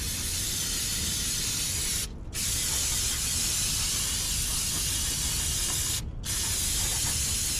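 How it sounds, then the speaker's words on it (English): Brake cleaner sprays onto parts of a 1976 Ford Courier truck in two long, loud hissing bursts, each cut off by a brief pause, close to the listener and without speech. "A little bit of brake clean, ain't gonna hurt nothing."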